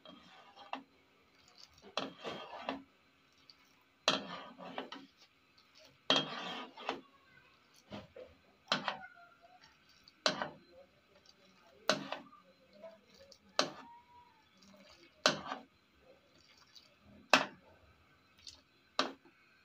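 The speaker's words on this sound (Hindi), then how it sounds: "2-3 मिनट हो गए हमें पकाते हुए, इस तरह फेंटते हुए।" Whisk clattering against a metal pot of thickening milk being beaten for badana doodh, a steady series of sharp clinks roughly every second, close and fairly loud, with no talking.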